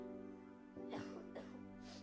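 A few short, husky coughs break out close by during a Sunday church service, three quick bursts over a steady low room hum.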